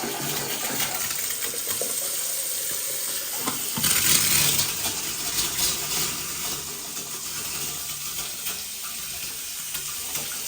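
Newly installed taps run water into a basin in a heritage cloakroom, a steady close hiss and splash that briefly grows louder before settling into an even flow.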